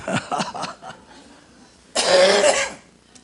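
Man with a cold and sore throat coughing once, a loud harsh burst close to the microphone after a few short voiced sounds, then quiet.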